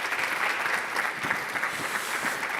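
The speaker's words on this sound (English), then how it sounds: "A huge round of applause" A startup pitch event audience applauds in London, a continuous, even roar of many hands clapping, heard alone at moderate level.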